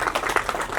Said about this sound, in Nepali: एकचोटि स्काउट तालीले आजको खुसियाली व्यक्त गर्न म अनुरोध गर्दछु।